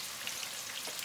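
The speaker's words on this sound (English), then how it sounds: "Right, that's frying in there now." Mince cutlets frying in hot oil in a pan give a steady, faint sizzle with small scattered pops and crackles, heard alone without talk.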